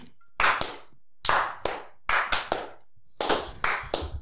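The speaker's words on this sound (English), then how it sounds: "we'll give that a little clap" Short bursts of people clapping hands come in four separate groups of a few claps each, close and crisp with silent gaps between them.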